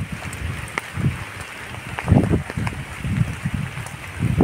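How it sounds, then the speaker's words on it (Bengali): Cyclone Remal brings heavy rain and strong wind, heard as a steady rushing hiss with gusty low buffeting and scattered drop patters close by, without any talk. "আর ঝড়টা তো প্রচুর দিচ্ছে, যে আমি যে দাঁড়িয়ে আছি একটু বাইরে বেরিয়ে, দাঁড়াতে পারছি না এত"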